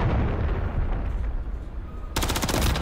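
Gunfire in a video game, with the player hit from the side: a sharp burst of rapid shots breaks in near the end over a steady noisy game backdrop, loud and close.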